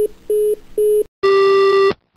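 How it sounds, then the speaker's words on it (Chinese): A phone line's disconnect tone plays as a sound effect: three short, steady beeps in an even rhythm, followed by a longer, louder and brighter tone that cuts off sharply. "话一讲完，电话就掉线了。"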